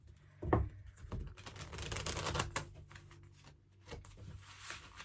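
Tarot cards being shuffled by hand, with quick papery riffles and taps in irregular bursts, close and fairly quiet with no talking.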